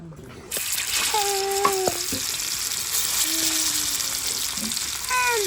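Chili-powder-coated fish frying in hot oil on a tawa, giving a loud, steady sizzle and hiss throughout with a few faint tonal clinks on top.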